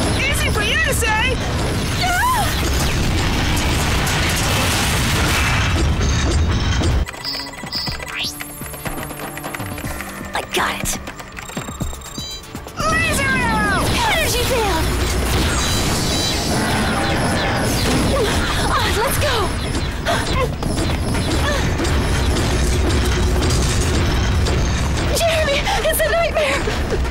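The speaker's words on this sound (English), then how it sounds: "The robots are firing at us!" Cartoon battle with robots firing at the heroes, a loud dense barrage of laser blasts, crashes and explosions with a dramatic score, a short stretch of quieter mechanical hum midway, and characters shouting over it.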